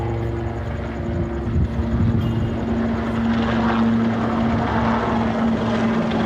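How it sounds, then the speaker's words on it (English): Two American Black Hawk military helicopters pass overhead in Okinawa, a steady loud rotor drone with a low pulsing beat that holds throughout with no talking. "look at these Black Hawks going overhead"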